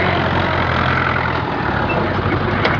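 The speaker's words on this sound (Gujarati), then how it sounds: "આમાં ટ્રેક્ટર ધીમે ધીમે કરીને ચાલી રહી છે" A tractor engine runs slowly and steadily in a cotton field, a continuous low, even drone with no pauses and no talk over it.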